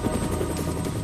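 An H-19 helicopter's rotor and engine give a continuous, loud, pulsing thrum with a steady buzzing whine through the whole brief stretch.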